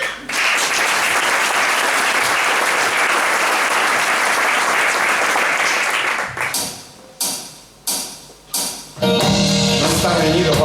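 Audience applause after a song at an engineering gala, a long, loud, dense round of clapping from a crowd, breaking into separate bursts before music starts again.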